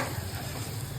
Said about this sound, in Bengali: এটাকে এবার এখন ভালো করে অনেকক্ষণ ধরে কষাতে থাকবো